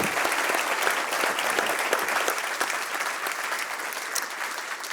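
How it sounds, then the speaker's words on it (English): Audience at a morning power breakfast panel applauds the panelists, dense sustained clapping filling the room at steady loudness from start to end, with no talk over it. "If we have a round of applause for our panelists"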